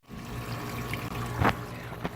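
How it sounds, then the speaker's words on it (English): Water trickling and running back into a sump pit beside a newly installed sump pump and French drain, a steady soft dribble with a couple of brief splashy surges near the end. "I'm running water over here. It's coming back into the pit."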